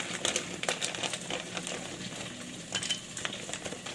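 Mushrooms tossed into a pot of frying sopas, a creamy Filipino soup, stirred steadily with a utensil, giving a continuous close sizzle broken by repeated scraping and clinking strokes.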